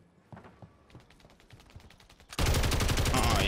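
Gunfire in the video game Warzone (MW3) starts with a few sparse, distant shots and mechanical clicks. It then breaks into a sudden, loud, sustained burst of rapid automatic fire that lasts to the end.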